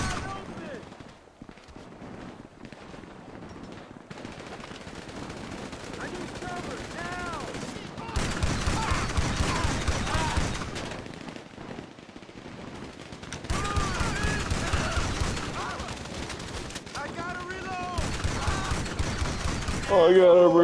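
Rapid, sustained automatic gunfire in GTA Online, loud bursts that stop and start over about twenty seconds, with a player talking through parts of it.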